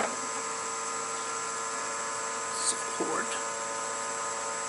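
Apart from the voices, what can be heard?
lathe running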